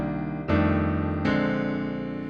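Low blues piano voicings on keys, a left-hand bass note under three-note chords, two sustained chords struck in turn and ringing full and close with no talk.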